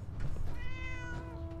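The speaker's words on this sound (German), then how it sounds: "Ey, eine Katze!" A cat meowing in the video game Fallout 4, a single drawn-out, clear meow close by over faint background ambience, with no talking.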